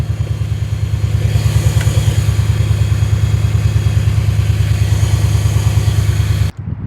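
A budget mudding lawn mower engine cranks steadily and loud, a fast regular chug repeating for several seconds before cutting off abruptly.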